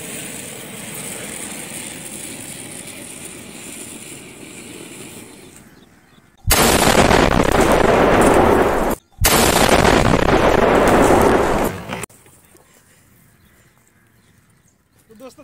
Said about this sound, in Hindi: देख सकते हो आप एक साथ हमने दो बम लगाए थे, जो कि जग का ये हाल हो चुका